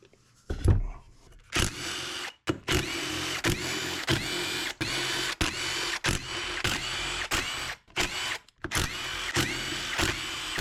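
A power tool spins out engine case bolts on a 2008 Suzuki RM-Z250 dirt bike. It whirs loudly and close in repeated bursts of about a second each, separated by brief pauses and clicks, with no talking.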